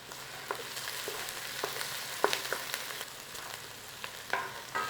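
Garlic frying gently in butter in a pan gives a soft, steady sizzle with scattered small pops and a few utensil clicks, fairly quiet and close.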